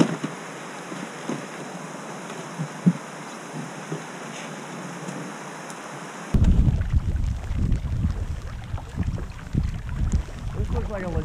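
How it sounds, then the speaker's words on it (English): Wind blowing over a lake in Kawartha Highlands Provincial Park during a canoe trip, a steady hiss that turns into loud, gusty buffeting against the microphone partway through. "Wind's howling."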